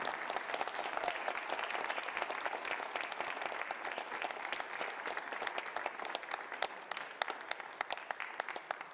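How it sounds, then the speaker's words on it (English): Steady, dense applause from a squash tournament audience in Chicago, even in level from start to finish, moderately distant and with no voices over it. "please give a huge round of applause for Olivia Fiechter"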